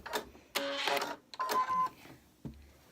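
A sewing machine stitches off the edge of fabric while piecing a barn quilt block, with two bursts of steady mechanical whirring separated by a short pause, then a brief thump at the end.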